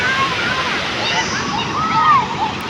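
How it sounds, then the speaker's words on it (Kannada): Rain-swollen water rushes loudly and steadily at a waterfall spot, a constant close roar with faint high bird-like chirps over it. "ಮಳೆ ಬಂದು ತುಂಬಾ ಜೋರಾಗಿ ಬರ್ತೈತೆ ನೀರು."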